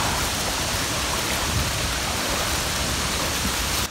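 Mooney Falls at Havasupai roars as a loud, steady wash of falling water, a dense hiss and rumble heard close with no break and no voices.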